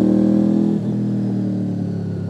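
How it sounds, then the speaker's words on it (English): A sports-touring motorcycle fitted with an aftermarket race exhaust can drones steadily nearby, its pitch easing off briefly as the throttle changes on a winding road, with no talk over it. "Listen to the motor. He's put a high-level Bose race can on it."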